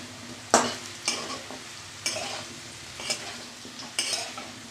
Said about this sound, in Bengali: আলু ভাজা হয়ে গেছে, এবার নামিয়ে রাখবো।